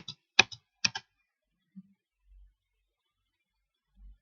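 A computer keyboard clicks in a short cluster of close, crisp keystrokes, the Enter key pressed twice among them, followed by faint scattered thumps and near silence.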